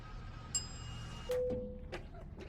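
A truck refuels at a pump in American Truck Simulator with a sound mod: a short high chime, then a steady electronic beep and a few soft clicks, quiet and alone with no talk.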